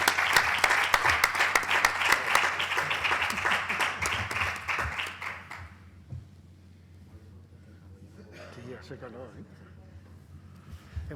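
Audience applause at a talk and colloquium marking the 125th anniversary of Sebastián Santos Rojas's birth, loud and steady clapping for about five seconds that then stops abruptly, leaving quiet room noise and faint voices.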